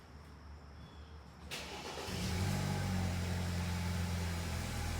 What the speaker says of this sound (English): I'm going to start the car, press the brake